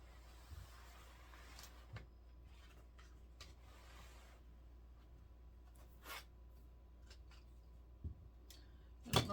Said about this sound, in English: I don't know if my scissors will cut through all this